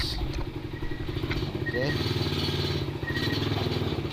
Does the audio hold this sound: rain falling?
no